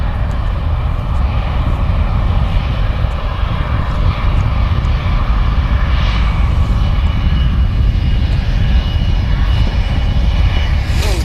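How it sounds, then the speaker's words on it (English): At Manchester Airport, a British Airways Airbus A320 arriving from London Gatwick produces a loud, sustained jet engine rumble, deep and even, with faint higher whines and a few light knocks over it. "Here it is, the British Airways A320 from London Gatwick"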